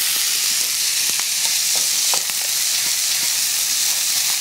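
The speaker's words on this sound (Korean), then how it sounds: "방금 양념에 버무린 미역 줄기를 넣고 볶아주세요" Seasoned seaweed stems stir-fried in a hot pan give off a loud, dense, continuous hiss of sizzling, with occasional pops and scrapes close by, no talking.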